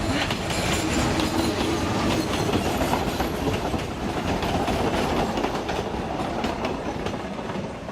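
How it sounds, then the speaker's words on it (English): A train rushes past close by on the Salkantay Trek in Peru, a loud continuous roar with rapid clattering of wheels over the rails, fading slightly toward the end. "And here comes the first train."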